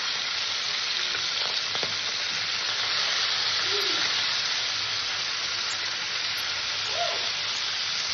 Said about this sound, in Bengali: মাছটাকে একটু ভেজে নেব।